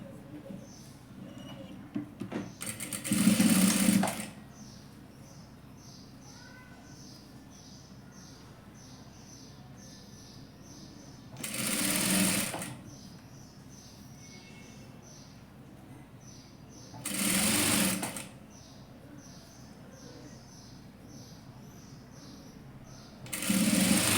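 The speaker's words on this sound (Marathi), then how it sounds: "इथे इथून असं शिवून घ्यायचं" Sewing machine stitching fabric for a baby bonnet cap, four short bursts of rapid whirring needle motion separated by quiet gaps, close and moderately loud with light background handling.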